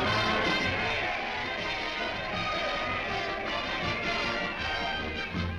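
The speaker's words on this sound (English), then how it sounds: "Look at that crowd." A crowd cheers a returning soldier in an animated hometown welcome with a brass band, a dense, steady roar of many voices that holds loud and continuous throughout.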